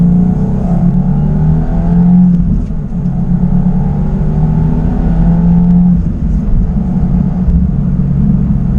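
Stock 2026 Subaru WRX tS pulling hard in second gear from 3,000 rpm, its engine note climbing steadily in pitch through two rising sweeps, loud and close from inside the cabin, with no talk.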